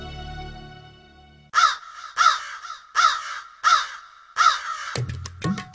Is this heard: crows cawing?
yes